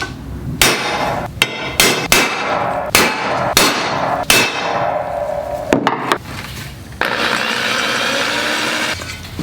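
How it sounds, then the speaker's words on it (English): Metal seat pan for a custom Grom motorcycle leather solo seat being center punched, a run of sharp close hammer strikes, then a power drill whirring steadily through the metal. "I'm going to go ahead and center punch them and drill them out."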